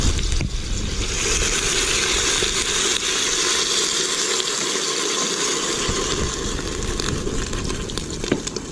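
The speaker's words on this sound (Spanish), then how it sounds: "vamos a agregarle vinagre vinagre blanco verdad a los chilitos" Steady splashing and gushing of white vinegar poured onto jalapeño peppers frying in a pan for pickled chiles, a constant close wash of liquid noise lasting several seconds with no talk.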